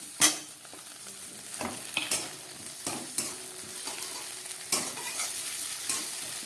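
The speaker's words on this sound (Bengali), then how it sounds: "পেঁয়াজ আর টমেটোটা আমি কয়েক সেকেন্ড ভেজে নেওয়ার পরে" Onions and tomatoes frying in a pan over low gas for a Bengali pabda fish and eggplant curry, a soft steady sizzle broken by several sharp scrapes and clinks of a spoon stirring against the pan.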